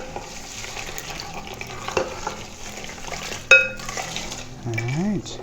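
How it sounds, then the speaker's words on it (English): A spoon stirs a blueberry cocktail over ice, giving soft clinks and rattles of cubes against the glass, with one sharper clink midway and a faint low hum underneath. "Give that a nice stir one more time."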